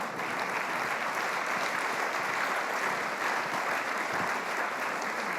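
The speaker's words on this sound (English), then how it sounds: "You can certainly applaud for them, what they did there." An audience applauds with steady, dense clapping at a constant loudness from start to end, and no voices stand out.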